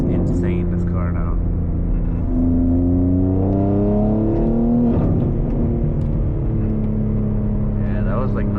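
A BMW G80 M3 LCI with its secondary catalytic converter and resonator deleted pulls hard, its loud engine droning and rising steadily in pitch, with a brief shift break midway before climbing again, heard from inside the cabin.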